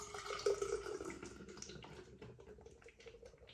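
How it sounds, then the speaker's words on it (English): Starobrno lager beer dumped quickly into a glass in a Czech-style pour: a close gurgling splash that peaks early, then fades into a softer fizzing trickle. "We're going to do our typical Czech pour where we dump the beer in the glass."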